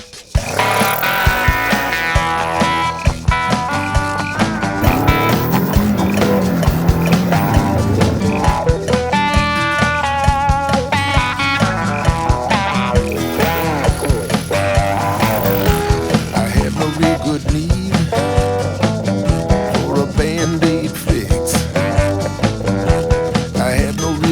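A custom Kawasaki KLE 500 motorcycle rides a small backyard dirt track, its engine droning loud and continuous with rising and falling revs and gear changes throughout.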